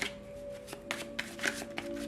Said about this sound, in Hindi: चलिए अब शफल कर लेते हैं कन्या राशि वर्गो साइन के लिए